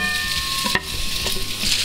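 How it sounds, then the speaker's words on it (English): Bacon pieces frying in a pan give a steady, close sizzle with a few brief spatters and light knocks over a couple of seconds. "Let's add our bacon to the pan."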